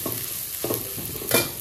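Tomato added to browning onions in a pan for malai kofta and stirred: a constant sizzle with a few scraping stirs, the last one louder.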